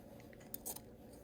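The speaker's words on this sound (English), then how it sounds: "slide my scissors into that end and just cut them apart" Scissors cutting apart a loop of quilt fabric, a few quiet, close snips with a faint crunch, heard in near silence.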